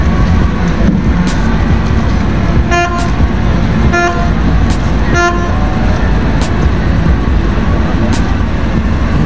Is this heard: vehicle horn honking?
yes